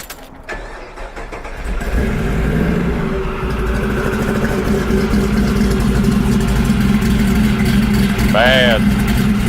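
A 1949 Chevy pickup with an LS3 V8 rated at 610 horsepower cranks briefly and fires, then settles into a loud, deep, steady idle with a slightly lumpy rumble, heard close by.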